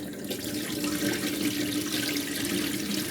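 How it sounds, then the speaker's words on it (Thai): Vegetables being lifted out of water in a kitchen sink, a continuous splashing, rushing watery sound, close and fairly loud throughout with no speech. "มาเอาผักออกจากน้ำ"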